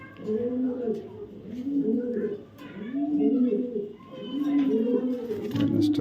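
A racer pigeon coos repeatedly while held in the hand, its low rolling calls returning in a steady rhythm every second or so, close and clear, with someone talking over it.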